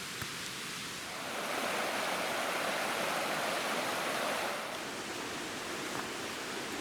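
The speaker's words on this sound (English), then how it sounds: "beautiful creek that we've been getting to look at almost the whole time" A forest creek runs with a steady broadband rush of water, swelling slightly in the middle, heard alone in the Cranberry Wilderness along the Middle Fork.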